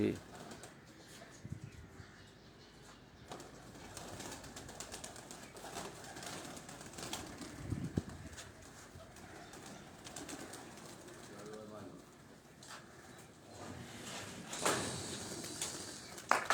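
Pigeons coo among a flock, with possible flutters of birds taking off, set against a steady background of people talking and scattered clicks.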